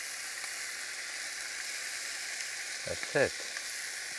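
Tomato frying in a pan, a steady, close sizzle with a brief spoken remark near the end.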